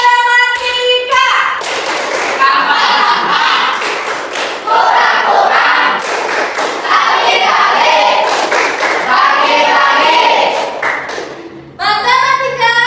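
A group performs the 'tepuk matematika' clapping routine, with loud rhythmic claps and chanting voices layered throughout. The sound is close and dense, and a brief pause near the end is followed by more vocal sound.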